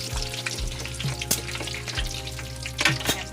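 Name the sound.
pork pieces deep frying for lechon kawali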